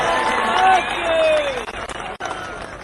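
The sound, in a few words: crowd clapping at a political rally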